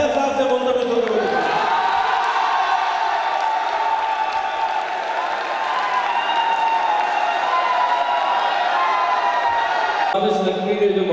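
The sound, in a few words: audience applauding at a poetry recital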